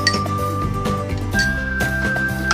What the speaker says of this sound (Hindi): और बर्फ डालेंगे।